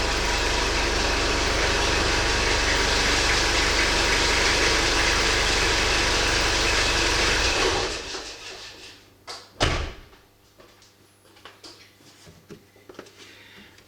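A car engine idles loudly and steadily during a battery start-and-charge test, then is switched off and cuts out, leaving a quiet space with a clunk and a few small knocks.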